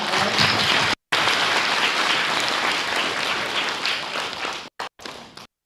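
Summer camp finale audience at Chinmaya Somnath breaking into loud, dense applause, a close wash of many hands clapping steadily before breaking off abruptly near the end.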